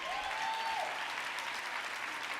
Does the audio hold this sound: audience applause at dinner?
yes